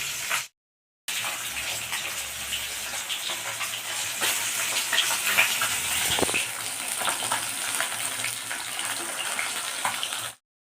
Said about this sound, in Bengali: মাছ ভাজা চাপিয়ে দিলাম, এটা হলেই হয়ে যাবে মাছ ভাজা